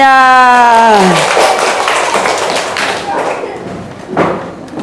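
Scattered clapping and thumping from a class group applauding everyone, following a sung chant; a loose burst of hands fading over a few seconds.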